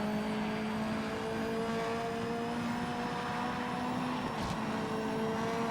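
Race car in the Project Motor Racing sim, a steady engine drone with a whining turbo tone and faint chassis rattles, a brief squeak or dump-valve hiss near the end, continuous and fairly loud with no talking.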